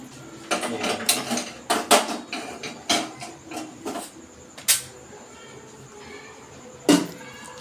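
A series of sharp mechanical clicks from a gas stove lighter, irregular and close, snapped repeatedly, with a louder click near the end.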